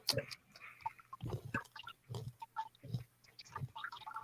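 A pet fish crunching on dry food pellets made with soldier fly larva, a series of soft, close, wet crunching and smacking bites at an irregular rhythm, faint and alone.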